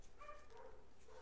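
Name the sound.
dogs barking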